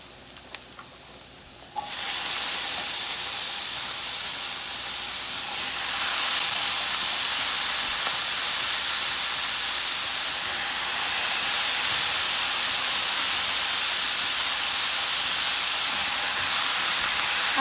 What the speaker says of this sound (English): Now that the seasoning has been cooking a little, I'm gonna add my butternut squash